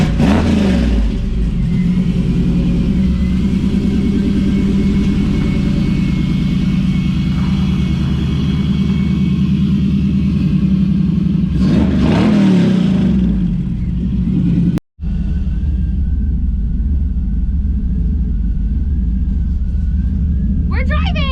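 An LS-swapped 1957 Chevy engine rumbles and revs loudly while driving, a steady mid-pitched roar with surges, briefly cut out, then continuing under occasional voices.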